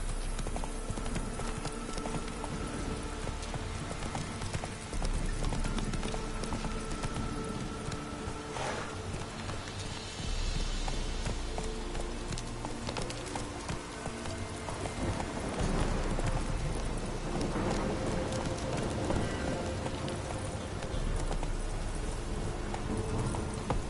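Hooves of Roach, a horse in The Witcher 3: Wild Hunt, clop steadily at a gallop over steady rain, close and continuous with no talk.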